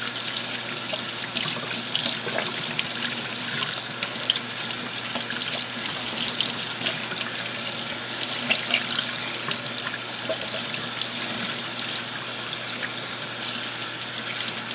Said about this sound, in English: give the fur a good rinsing with just regular tap water